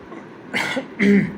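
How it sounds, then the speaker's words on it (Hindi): Two quick, close coughs, the second slightly louder and rougher. "उसकी वजह से खांसी आने लगी।"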